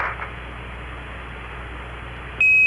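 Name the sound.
Apollo 9 spacecraft master alarm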